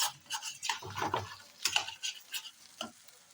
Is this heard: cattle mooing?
no